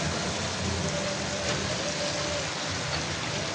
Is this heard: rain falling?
yes